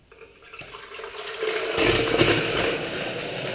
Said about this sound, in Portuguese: Essa água da torneira